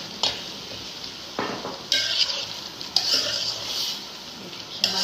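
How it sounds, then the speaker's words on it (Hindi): Water boiling in a pot while chana chaat is cooked at home, heard as a steady hiss and bubble with intermittent clinks and scrapes of a spoon stirring against the metal pot. "अब ये हमारा पानी उबल रहा है।"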